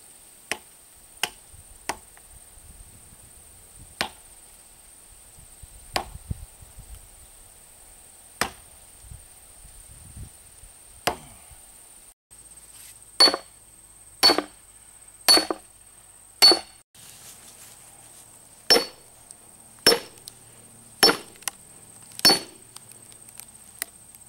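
An axe strikes a driftwood log outdoors again and again, splitting it with sharp, crisp chops at irregular intervals that come faster and louder in the second half, with a faint high tone in the background.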